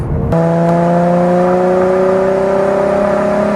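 Car fitted with an aftermarket Borla exhaust giving a steady, loud growl as it accelerates, the engine note rising smoothly and continuously after a brief quieter start.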